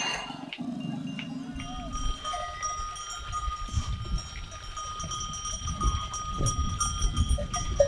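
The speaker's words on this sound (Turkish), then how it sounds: "İşte koyunumuz geldi." A flock of sheep arrives in a mountain village, bells clinking and jangling irregularly among hooves and shuffling, growing busier and louder toward the end, with people talking in the background.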